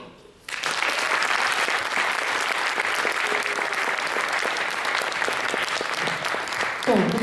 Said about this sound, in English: Can we have another big round of applause, please, for Serena Arthur?